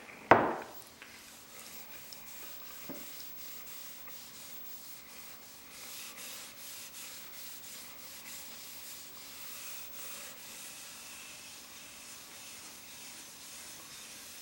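A gloved hand rubs finish into a pine floating shelf, making soft, faint rhythmic rubbing and wiping strokes that repeat steadily after a brief sharp knock at the start, with no talking.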